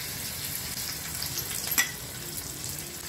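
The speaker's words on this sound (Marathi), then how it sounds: "मोहरी तडतडली की आपण मिरच्या घालूया स्लिप केलेल्या, कढीपत्ता, हिंग आणि थोडंसं एक चमचाभर तेल घालूया." Mustard seeds, sliced chillies, curry leaves and asafoetida tempering in hot oil for dhokla, a continuous close crackling sizzle with one sharper pop partway through, no voices.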